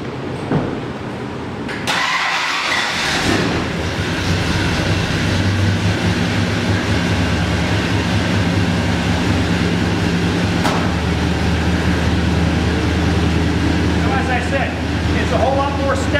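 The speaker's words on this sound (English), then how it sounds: "I'm going to give the truck a quick start up." A restored 1970 Ford F250 pickup truck engine cranks and fires about two seconds in, then settles into a steady, close, loud idle that runs to the end, with some talk over it.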